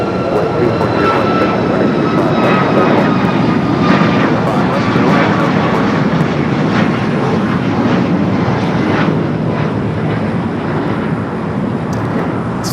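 An Air Canada Boeing 737 MAX 8 jet at LAX airport roars loudly and steadily with engine whine throughout, the close, sustained jet noise dominating the scene.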